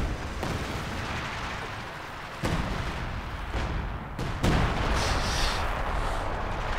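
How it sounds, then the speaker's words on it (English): Katyusha rocket barrages slam down in a winter 3v3 Company of Heroes 2 battle at Rzhev, with several heavy booming impacts rolling out in waves over a constant rumble of battlefield noise. "And the Katusha barrages are falling down right on top of them."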